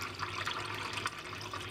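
Water runs steadily as it fills a snake's water bowl in a snake-room tank, a continuous close splashing pour with no talk over it.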